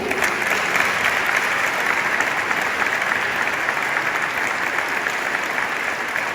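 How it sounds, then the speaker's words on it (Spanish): Applause for children at a Galician community event, steady and dense throughout, loud and close with no talk over it. "primeiro un aplauso forte"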